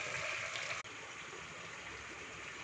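Water poured into rice flour for kozhukattai dough, a steady splashing rush that continues with a brief break near the start and no talking.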